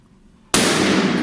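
An air-filled balloon held over a lit candle pops with a sudden loud burst after a quiet lead-in, its broadband noise lingering and decaying slowly to the end.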